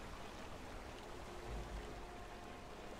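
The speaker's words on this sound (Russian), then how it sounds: "Что-то здоровенный водопад." A large waterfall in the video game Skyrim Special Edition, heard as a steady, fairly faint rushing wash of water with no talking over it.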